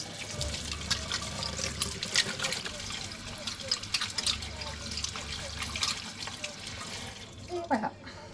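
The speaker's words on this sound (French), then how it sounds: "Bon allez, on va se laver les mains." Tap water runs steadily while hands are washed at a sink inside a converted camper van, a continuous splashing rush with small clatters and a voice murmuring faintly underneath.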